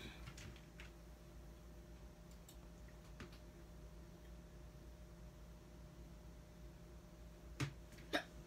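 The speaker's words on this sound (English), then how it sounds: "So I have hiccups." Two short, sharp hiccups from a person sound near the end, a quick pair of jolts standing out above a steady faint hiss and a low hum.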